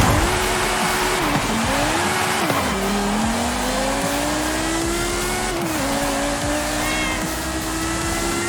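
A 2003 Porsche Carrera GT on a lap in Forza Horizon 5, its engine loud and close, rising in pitch through the gears and holding a high steady whine with brief dips at shifts, with tire squeal.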